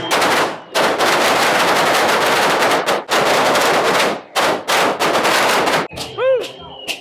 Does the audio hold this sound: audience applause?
no